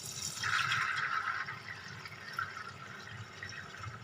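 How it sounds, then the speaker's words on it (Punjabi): Water poured into a pressure cooker holding soaked chickpeas, a soft splashing rush that swells early and then settles into a gentler trickle, fairly quiet and close. "ਹੁਣ ਆਪਾਂ ਕੁੱਕਰ ਵਿੱਚ ਪਾ ਲਿਆ ਹੁਣ ਆਪਾਂ ਇਹਦੇ ਵਿੱਚ ਪਾਣੀ"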